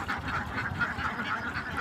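Ducks quacking as flood water rises around them, a short run of repeated nasal calls at moderate distance, steady and unbroken, with no voices over them.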